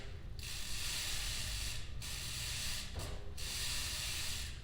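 A bike chain spun backwards through a scrub brush during a bike wash gives a steady, close wet hiss and spray with faint ratcheting, broken by two short pauses in the spinning.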